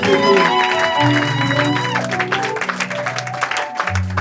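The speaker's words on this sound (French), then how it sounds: "On acclame le Seigneur très très fort." A church congregation claps and cheers in a dense wash of applause while sustained musical tones, likely organ or keyboard, play throughout, loud and close, with the crowd noise filling the room.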